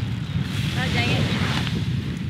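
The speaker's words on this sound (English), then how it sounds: "it's still windy as heck" Blustery wind buffets the microphone in a steady rough rumble, with faint water and boat noise mixed in.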